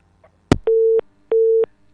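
A busy signal sounds on a radio call-in phone line after a sharp click: two steady, evenly spaced tone pulses of about a third of a second each, separated by short gaps, loud and clear.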